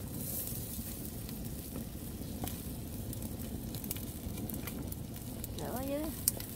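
Snails grilling over an open fire, a steady close crackling sizzle running throughout with scattered pops, while people talk over it.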